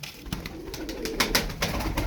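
Caucasian tumbler pigeons coo softly, a few low murmuring calls rising over a steady background hum, close by and without any talking.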